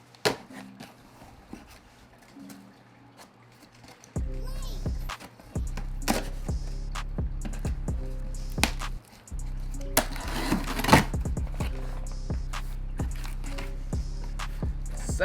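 Shoe box for Air Jordan 6 sneakers being cut open, with repeated sharp scraping and cracking cuts through cardboard and brief rustles of packaging, close and fairly loud over a low hum.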